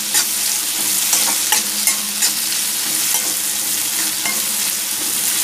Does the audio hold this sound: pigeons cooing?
no